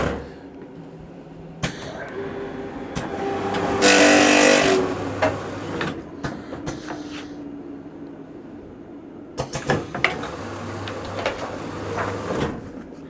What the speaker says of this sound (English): the spine is pressed against the cover. I slow down the machine for this video